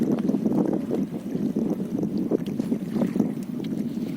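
Steady wind blowing at sea on a fairly hot, breezy day while fishing from a boat off Painan, a continuous low rushing with light water movement against the hull, no talking.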